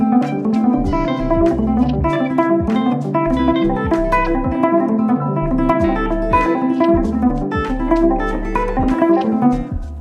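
A guitar plays a repeating ostinato figure built on pull-offs and hammer-ons, a busy, steady pattern of plucked notes over low bass thumps, close and alone without talk.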